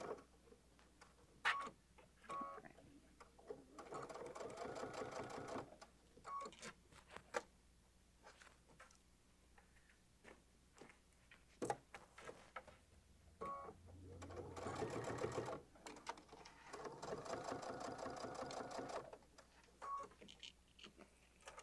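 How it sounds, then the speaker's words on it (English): A sewing machine back-stitching a messenger bag: runs of fast, close, mechanical needle clatter in several bursts, with pauses, clicks and handling noises between them, and no talking. "I'm going to back stitch."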